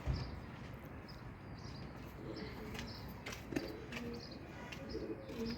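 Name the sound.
pigeons cooing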